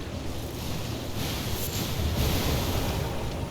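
Water and waves in the Elden Ring game world, heard as a continuous broadband wash of surf with a soft wind-like roar, steady and fairly loud with no voices.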